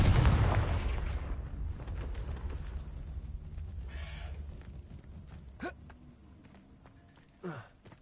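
A Confringo blasting spell goes off in the game Hogwarts Legacy with a loud, booming explosion that decays over several seconds, followed by a couple of fainter whooshing bursts.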